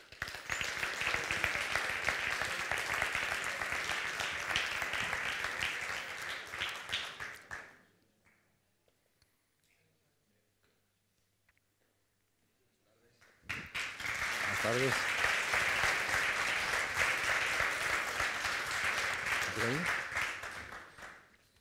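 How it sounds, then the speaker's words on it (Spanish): Audience applause at a literary event featuring authors Javier Moro and Antonio Orejudo, with a loud burst of clapping, a silent gap of several seconds, then a second long round, a voice briefly heard within it. "les pido un aplauso para ellos"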